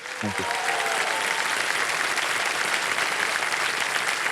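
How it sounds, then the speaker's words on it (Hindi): Loud, sustained applause from a TV quiz show studio audience fills the whole stretch, dense and even, with a brief voice at the very start. "ताली बज जाए उनके लिए।"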